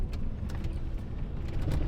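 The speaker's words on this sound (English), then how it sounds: "This old Ford is a bit rattly. It's a 1991." Faint, light rattling and a low rumble come from inside an old 1991 Ford truck as it drives along, with small irregular knocks over a steady road drone.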